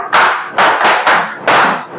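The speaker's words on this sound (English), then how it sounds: "Can we clap for her? Power clap." A classroom group performs a power clap: several loud, sharp bursts of clapping in quick, uneven succession, close and crisp, with no talking over them.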